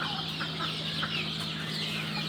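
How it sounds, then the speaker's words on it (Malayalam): Repeated clucking from a game bantam, the smallest of chickens, in a poultry farm, several quick close calls over a constant low mechanical hum, with no voices. "കോഴികളിലെ ഏറ്റവും ചെറിയ കോഴി ഗെയിം ബാൻഡം."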